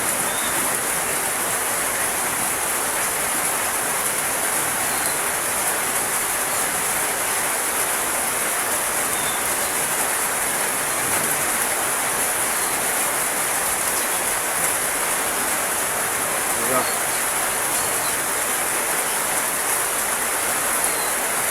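Heavy rain falls in a steady, dense hiss with no letup, loud and close throughout, with no voices.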